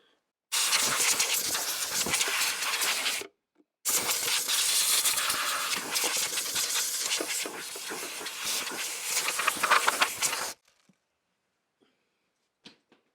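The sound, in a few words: air hose blowing dust off a fuel pump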